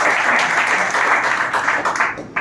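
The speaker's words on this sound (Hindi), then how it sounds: "तो जोरदार तालियां हो जाए मैम" Loud, close audience applause at a motivational interview session, dense clapping that stays steady and thins out near the end.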